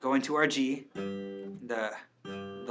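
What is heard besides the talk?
No everyday noise stands out behind the speech.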